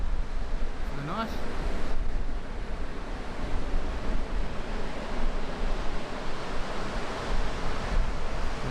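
Surf washing onto a secluded beach at the eastern end of Cape Le Grand, a steady broadband wash of waves with wind noise across the microphone and a brief faint voice early on.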